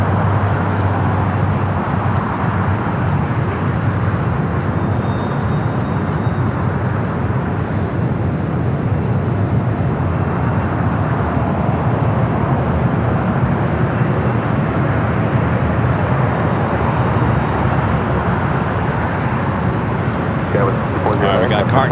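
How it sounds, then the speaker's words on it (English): A Boeing 787-10 Dreamliner on a heavy arrival from Newark, landing at LAX, gives a loud, steady broadband jet roar that holds for the whole stretch, with talking over it. "Take you back high atop the H Hotel for this heavy arrival. Flight coming in from Newark on the 787-10 Dreamliner."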